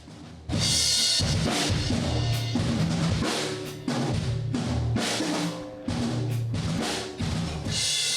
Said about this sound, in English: The stairwell mic on the drums